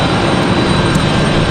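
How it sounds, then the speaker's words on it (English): A CRJ regional jet operated by Endeavor as Delta Connection arrives at Raleigh-Durham airport, its jet engines making a loud, close, continuous broadband roar with no pauses. "Looks like our next arrival is going to be a CRJ."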